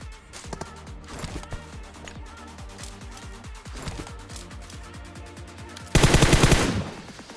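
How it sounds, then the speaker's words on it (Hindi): Automatic gunfire in the PUBG video game, rapid bursts of shots echoing in quick rhythm, with a loud, dense burst near the end. "लेकिन तभी पीछे से फायर आता है इसके टीममेट्स का"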